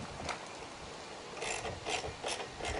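A ratchet wrench clicks in short bursts while snugging a small locking nut onto a stainless bolt through a flat washer on a pool slide deck anchor flange, quiet and close with brief pauses between strokes.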